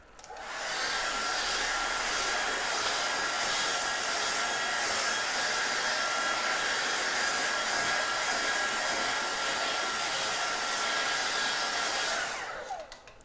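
A hair dryer blows steadily on a painted rock to partly dry the paint, a loud, close, continuous rushing whine that starts abruptly, holds for about twelve seconds and cuts off.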